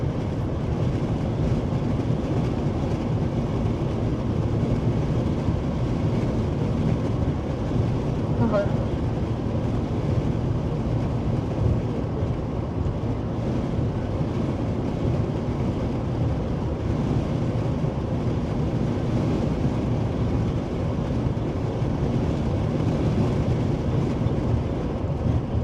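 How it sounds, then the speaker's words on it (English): Strong storm wind buffeting a storm chaser's vehicle during a tornado outbreak chase, a loud sustained low roar and rumble that rolls on unbroken for the whole stretch, close and heavy with no clear talk over it. "God, this wind, holy Christ."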